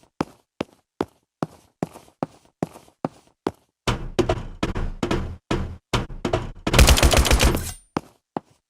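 Gunfire crackles in the MATR1X FIRE shooter game during a competitive match: evenly spaced single shots at first, then denser overlapping bursts, and one long loud rapid volley before a few final shots.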